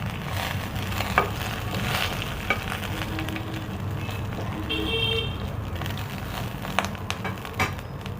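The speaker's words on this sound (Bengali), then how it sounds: "এবারে তেজপাতা দুটো আর একটা শুকনো লঙ্কা দিয়ে দিলাম" Two bay leaves and a dried red chili sizzle in hot ghee, a steady crackling fry that stays even and moderately close, with a few sharp clinks and pops scattered through.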